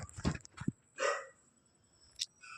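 A pet dog at home gives a few short, sharp barks close by, one quick cluster, then a single bark and a final yip after a pause, in an otherwise quiet room.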